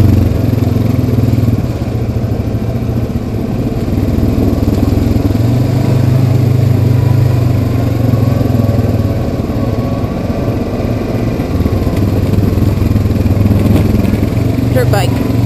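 A Yamaha Kodiak 700 ATV engine runs steadily on a trail, a loud continuous low drone with a deep rumble that holds throughout, while people talk over it.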